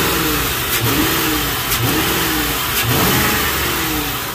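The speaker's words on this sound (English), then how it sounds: "It sounds way better now with the new exhaust manifold" A 2004 Lincoln Town Car engine with a new exhaust manifold revs in loud, repeated pulses over a steady running hum, close up and with no speech.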